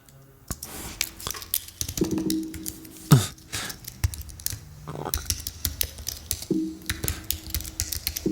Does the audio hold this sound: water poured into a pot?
no